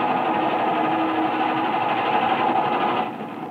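A police launch motorboat engine in a radio drama about Thames pirates, a loud steady close drone that drops away at the end.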